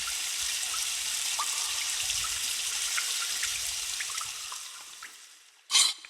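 Water drains out in the video game Myst's Stoneship Age, a steady hissing rush flecked with small drips and trickles that slowly fades, then ends in a short, louder splash.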